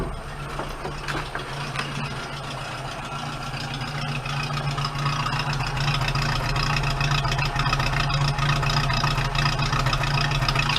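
A 1978 Toyota Hilux pickup engine idles steadily with a low, even hum, its rough running slightly uneven but continuous and close by, with no voices over it.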